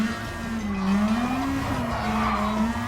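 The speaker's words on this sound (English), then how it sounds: "Going to hit the brakes." A car brakes hard in the Gran Turismo Sport video game during a Super GT race at Autopolis, and the tires give a loud, sustained squeal over the engine for about three seconds.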